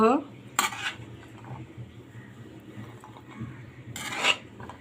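Cooked chickpeas scraped and poured from a pot into a bowl, with two loud metallic clatters of a spoon against the pot at the start and near the end and quieter scraping and shuffling between.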